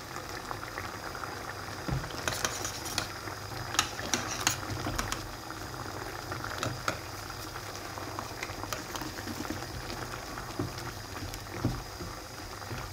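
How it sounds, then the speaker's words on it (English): A pot of potatoes and vegetables in ketchup and broom sauce simmers on the stove with a low, steady bubbling and soft clinks, fairly quiet and without any voices. "We'll let this simmer for"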